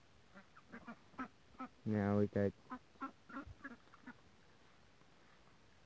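Ducklings quack in a loose rhythm of short calls, with a louder honking burst in the middle and a few spoken words.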